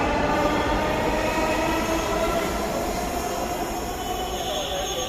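A Dhaka metro rail train at Pallabi station, a loud, continuous rumble and rolling roar of wheels on track with a faint high squeal, heard close and steady throughout.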